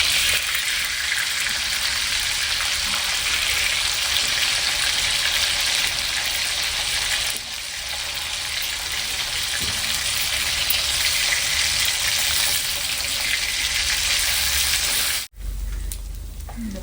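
Fish frying in hot oil in a pan, a South Indian pan-fried sardine dish: a dense, loud, continuous sizzle crackles steadily for the whole stretch, with a brief dip near the end.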